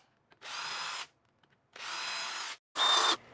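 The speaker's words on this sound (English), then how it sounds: "I highly recommend pre-drilling your holes for the screws so that you don't risk splitting the wood" A power drill whirs in three short bursts separated by brief pauses, pre-drilling screw holes in wooden planks for a planter box, close and clear with no talking.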